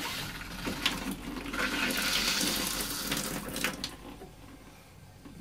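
Cold water tap running into an RV bathtub while flushing antifreeze through the water lines, a steady hissing, splashing stream close by that swells and then tapers off.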